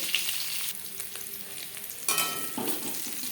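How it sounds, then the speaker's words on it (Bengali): Boiled potatoes frying lightly in a pan for a chicken biryani, a steady sizzle with occasional stirring scrapes, rising briefly louder toward the end, no voices. "সেদ্ধ করা আলু আমি হালকা করে ভেজে নেব"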